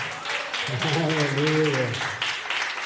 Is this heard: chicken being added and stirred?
no